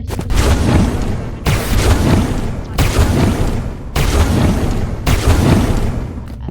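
Warper gun in the Roblox game Rivals firing in five loud, evenly spaced bursts of booming shots, each lasting about a second, with no talking.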